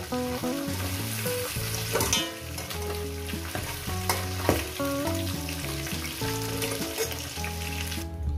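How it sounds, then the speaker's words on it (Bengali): A catla fish head fries in hot oil, a loud, busy sizzle with crackles and stirring scrapes close at hand, alongside steady tonal sounds and no speech. "মাছের মাথাটা আমার ভাজা হয়ে গেছে"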